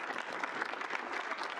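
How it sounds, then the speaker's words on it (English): Steady applause from a room of students fills a student senate meeting, an even, moderately distant patter of many hands clapping with no voices over it. "Let's give him a round of applause."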